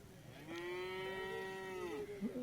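A single loud, drawn-out bull moo, deep and close, at a cattle market, with faint background noise around it.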